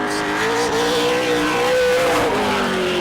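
A super late model race car runs a qualifying lap at Auburndale, a loud continuous engine roar with a rising, wavering pitch as it powers through a turn, with a hint of tire spin on exit.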